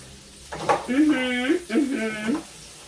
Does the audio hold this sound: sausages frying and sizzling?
yes